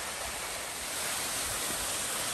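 A small three-tiered waterfall on a Smoky Mountain National Park trail gives a steady, even rush of falling water, close and constant with no breaks or voices.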